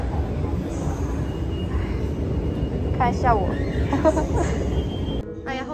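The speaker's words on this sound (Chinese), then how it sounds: "然后我现在要去登机口了，还要坐地铁过去" Ride on an airport subway train heading to the boarding gates, a steady rumbling hum of the moving carriage throughout, with a voice speaking briefly near the middle and a short whining tone toward the end.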